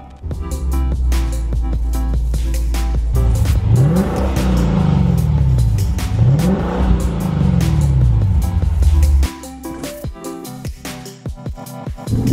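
A 2016 Lexus RC F accelerating while driving, its engine loud and close with rising, falling revs through gear changes, then settling to a lower rumble with brief clicks near the end.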